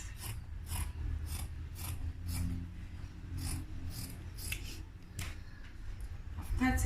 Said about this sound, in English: This is my sewing allowance, so I'll cut on the curve like this.